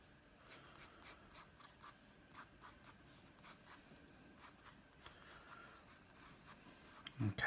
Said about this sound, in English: So if we start with a 2H pencil, if we start off by just drawing sort of a basic circle